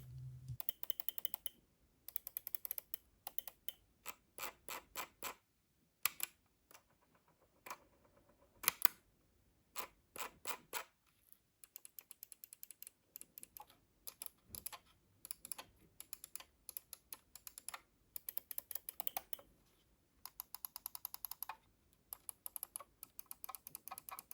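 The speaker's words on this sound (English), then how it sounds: "do a little bit of the sound test of the new improved hybrid optical mechanical switches" Crisp, rapid clicks from a Logitech G502 X Plus gaming mouse's hybrid optical-mechanical switches, in bursts of fast repeated presses separated by short pauses, close and clear with no talking.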